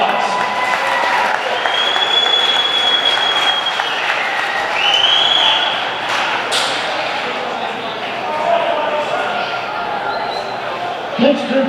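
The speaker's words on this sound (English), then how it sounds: "Give them a round of applause." An audience applauds at a 2022 81 Speedway stock car awards banquet in the Wichita Union Stockyards, a sustained wash of clapping from a crowded hall lasting about eleven seconds and swelling midway.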